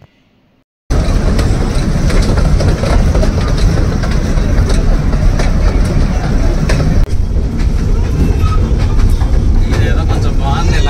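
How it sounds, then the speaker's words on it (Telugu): The Ooty toy train rolls along after starting out, with a continuous close, loud rumble and rattle of the carriages that persists throughout. "ఇంకా మేము టాయ్ ట్రైన్కి అయితే స్టార్ట్ అయ్యాము."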